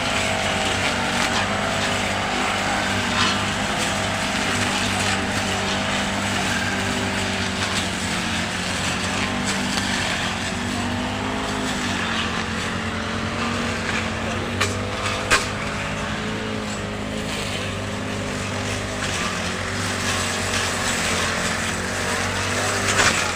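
A tractor engine drones steadily and continuously with a low rumbling hum, loud and close, with no pauses and faint clatter over the top.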